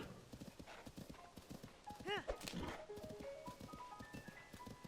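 A horse trots in Zelda: Tears of the Kingdom, its hooves clip-clopping in a steady close rhythm with a brief whinny partway through, under faint game music and a person talking.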